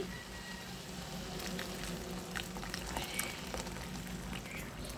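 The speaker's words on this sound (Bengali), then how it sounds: "এখন আমি গরম জলটা দিয়ে দিচ্ছি" Hot water poured into a frying pan of pangas fish roe curry, a steady hissing, bubbling rush of liquid against hot food that carries on evenly and fairly quietly.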